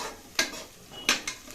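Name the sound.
frying onion and garlic in oil in a pan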